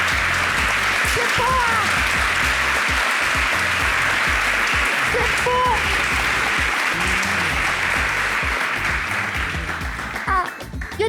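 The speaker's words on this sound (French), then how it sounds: "Depuis là, vous applaudissez" A French television show's studio audience applauds steadily for the whole stretch, a dense, continuous clatter of many hands, while someone speaks briefly over it.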